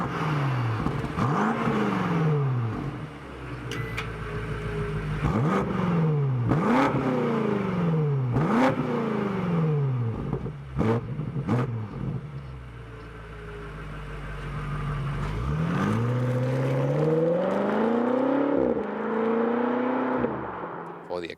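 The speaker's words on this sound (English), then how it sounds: "the exhaust here, this is the main part, 1, 2, 3, 4, and the sound, you already heard a little bit of that" A BMW X5 M Competition V8 exhaust revs repeatedly, with several sharp throttle blips followed by a longer, sustained climb in pitch, loud and close throughout.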